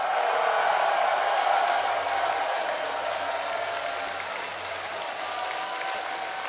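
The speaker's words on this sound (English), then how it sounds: "Crowd, everybody in the audience, everybody at home, scream at your TV" An esports crowd at NA Regionals for TSM vs. Curse roars and screams continuously, a dense wall of cheering that holds loud throughout and eases slightly toward the end.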